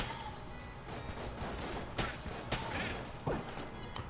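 Shotgun-wielding enemy firing in the video game Enter the Gungeon: a few sharp blasts spaced about a second apart, rising over a dense, busy layer of game music and effects.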